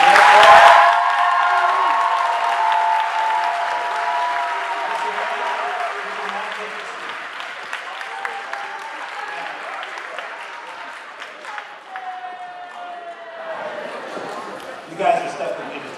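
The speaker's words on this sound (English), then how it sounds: "I'd like everybody, if they please could, to give a round of applause for Mr. Dowd." An audience at a school Founder's Day ceremony applauds, with a dense burst of clapping that starts strong and gradually thins out over sixteen seconds, ending in scattered claps and a few voices.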